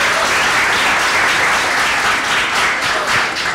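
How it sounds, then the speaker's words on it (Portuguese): Steady, loud applause from a crowd at a graduation ceremony fills the whole stretch, with dense clapping and no voices rising above it. "a quem também pedimos uma salva de palmas"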